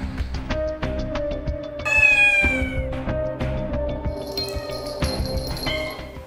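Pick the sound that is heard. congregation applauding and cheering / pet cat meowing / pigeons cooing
pet cat meowing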